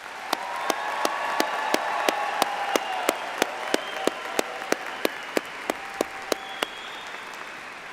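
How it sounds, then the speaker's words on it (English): Applause from a commencement audience for graduating engineering students: a broad, sustained crowd clapping with a regular sharp accent of one loud clapper near the microphone every half second or so. "Please join me in another round of applause in congratulating these students on this incredible occasion."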